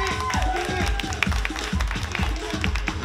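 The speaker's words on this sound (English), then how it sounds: "another round of applause" Audience at a New Year 2019 costume contest applauding, a steady wash of clapping and crowd noise with sharp taps throughout, fairly loud and close, with some voices mixed in.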